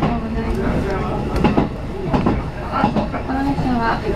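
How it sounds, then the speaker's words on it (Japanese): Interior of a JR Central Taketoyo Line local electric train running between Obu and Owari-Morioka, with a steady rumbling car hum, faint rhythmic wheel clatter and a few higher squeals throughout, plus a voice heard over it. "この列車は普通列車竹豊行きです。"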